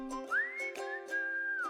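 A clear, close whistle carries a simple, catchy tune, sliding smoothly between sustained notes with no talking.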